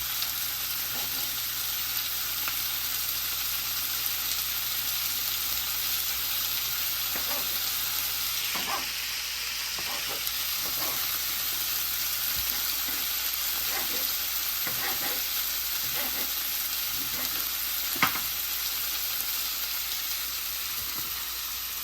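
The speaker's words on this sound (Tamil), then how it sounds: "தக்காளி பழம் ரால் இவ்வளவு சேர்ந்து வடிவாக பொரியட்டு" Shrimp, chili peppers and tomato fry in a pan with a steady, close sizzle throughout, broken now and then by soft stirring scrapes; no one talks.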